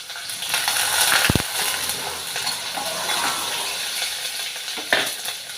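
Green chilies and dried red chilies frying in oil in a pan for an eggplant and chana dal curry, with a steady sizzle, scraping stirs and a sharp clank of a utensil near the start, no talking.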